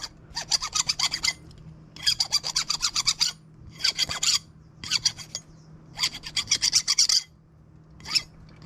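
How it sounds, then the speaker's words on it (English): Metal file rasping burrs off homemade cast fishing sinker weights, in five or six bursts of quick back-and-forth strokes separated by short pauses, close and fairly loud, with no talking. "But go ahead and just file these down."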